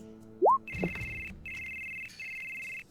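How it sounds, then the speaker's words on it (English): Telephone ringtone in a tabletop role-playing session set in a Final Fantasy 7 world, sounding as steady repeated electronic rings that pause briefly between bursts, following a short rising tone and a soft knock. "phone's ringing."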